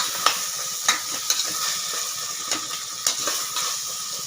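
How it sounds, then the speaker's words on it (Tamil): Tomatoes sauté in a pan for chicken biryani with a steady close sizzle, broken by sharp scraping stirs at irregular moments. "தக்காளி நல்லா வதங்கணும்."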